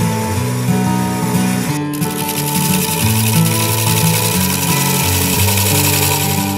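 A wood lathe spins a bark-edged bowl while a tool cuts deeper into the wood, producing a loud, steady machine drone with continuous scraping throughout.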